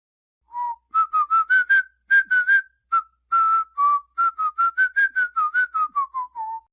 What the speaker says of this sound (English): Now this is just a track of me whistling.